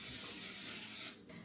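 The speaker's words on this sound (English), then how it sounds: "we're going to spray this down with nonstick cooking spray" Nonstick cooking spray hissing into an Instant Pot insert: one steady aerosol spray of about a second, close and fairly quiet, ending in a brief pause and then a short second puff.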